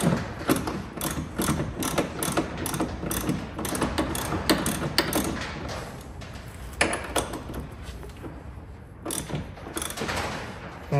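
A hand ratchet clicks in quick, uneven bursts while tightening the engine bushing bolts on a Renault Clio 182/172 during an Audi 1.8 20VT engine conversion. The clicking is close and continuous, with a few brief pauses.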